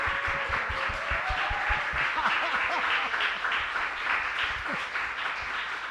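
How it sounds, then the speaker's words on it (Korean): Church congregation applauding and cheering at a Sunday afternoon service, steady dense clapping with scattered voices calling out, continuous and fairly loud throughout. "큰 박수로 환영의 목소리와 함께"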